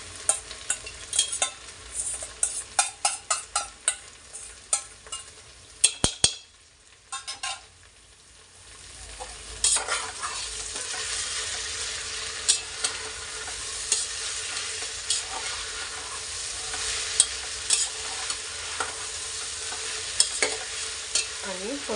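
Yogurt-marinated soybean chunks stirred and sautéed in a pan, with a run of sharp spoon scrapes and knocks early, then a steady close sizzle with occasional stirring clacks, no talk.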